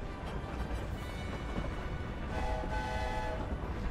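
A steam train in the Hogwarts Legacy video game rumbles steadily as a broadband roar, with a sustained whistle or horn tone rising over it in the second half and no talk.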